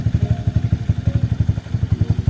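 A Lifan KP Mini 223 165FMM single-cylinder engine idles close by with a loud, steady, rapid thumping beat, alone without talk.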